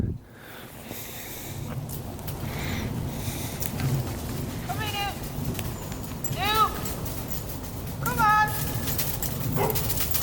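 A dog in Sherwood Forest gives a few short, high yips and whimpers spread across the scene, mid-distance, over soft outdoor ambience and rustling footsteps, with a person talking nearby.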